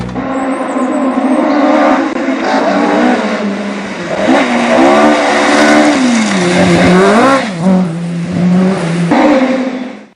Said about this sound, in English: the unmistakable sound of engines reverberated around the valleys